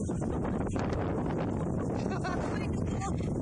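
Strong wind roars steadily and buffets the microphone throughout on a steep mountain trail, with a faint voice partly buried in the rumble.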